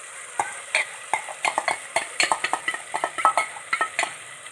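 Masala for chicken curry is stirred in a pan with a metal spoon, giving a rapid irregular run of sharp scraping clicks over a faint sizzle, close and fairly loud, with no talk.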